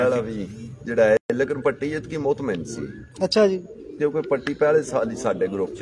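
Racing pigeons coo on a rooftop loft, faint and partly masked beneath a continuous conversation between men that runs through the whole stretch.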